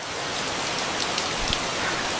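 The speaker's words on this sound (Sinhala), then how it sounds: "මේක පුදුම වැස්සක් නිකනේ." Heavy rain pours steadily and densely, a loud continuous hiss of drops hitting surfaces with no pauses.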